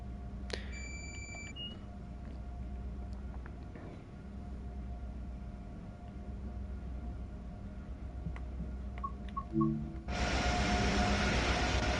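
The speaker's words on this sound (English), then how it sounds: "When you have a mass gathering of F40PH MBTA trains, it is certainly on the loud side." Several F40PH diesel passenger locomotives in a train simulator game idle with a steady low rumble and drone, punctuated by electronic beeps and tones, ending in a loud burst of hissing noise.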